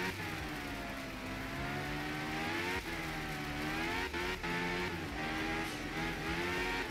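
A rally car in the video game Art of Rally, driven on a rainy stage, keeps its engine revving hard and continuously, the pitch rising and dipping with gear changes and brief throttle lifts, loud and close throughout.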